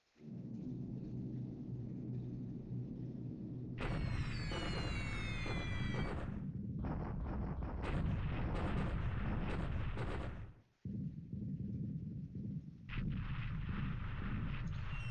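Bombs exploding on an airbase in the War in the Pacific video game, a long rumbling roar of blasts and artillery-like booms, heavy and continuous, cut off briefly before a further rumbling stretch.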